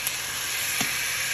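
Swordfish fillet frying in a pan, a steady broad sizzle throughout with a brief louder burst of spitting partway, close and alone with no talk.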